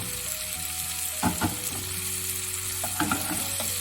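Monkfish sizzling steadily in a good frying pan beside a risotto being cooked, a continuous close crackle with a few brief clinks and stirring sounds and no talk.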